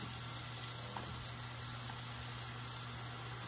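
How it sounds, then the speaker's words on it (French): French shallot sautéing quickly in melted butter without browning, a steady close sizzle and crackle holding evenly throughout with a faint hum beneath. "Je la fais revenir très rapidement, sans coloration."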